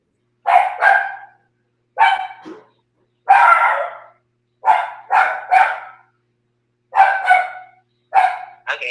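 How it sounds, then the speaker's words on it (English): Several dogs bark in bursts of two or three, loud and close, with short silent gaps between volleys and no talking. "I can't hear nobody but them dogs"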